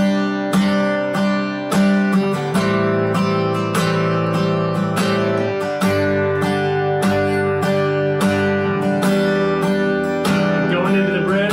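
An acoustic guitar strums the chorus of a worship song in a steady, rhythmic pattern of full chords, loud and close with no voices.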